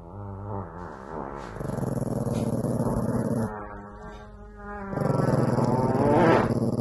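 A tiny dog wearing a sweater growls in a low, continuous rumble that swells and rises near the end, with some overlapping background sound.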